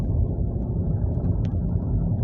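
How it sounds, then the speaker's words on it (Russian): The petrol engine of a Nissan Note e-Power hybrid runs after starting, a steady low rumble heard from inside the car, continuous and fairly loud with no speech over it. "Мотор стал завелся."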